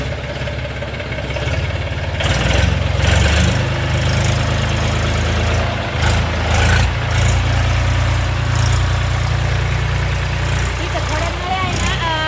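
Farm tractor engine running close by as it is driven out through a gate past irrigation pipes, a steady low rumbling idle that rises in roughness and volume, with faint voices underneath.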